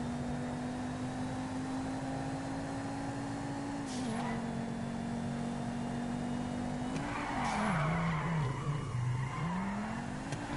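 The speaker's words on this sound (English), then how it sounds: "I'm having trouble drifting with this" A car drifting in GTA 5 makes a steady engine drone that rises and falls with the throttle, joined by long tire squeals and skids as it slides, loud and continuous throughout.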